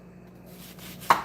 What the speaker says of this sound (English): And then I cut the onion the same way that I cut the tomato.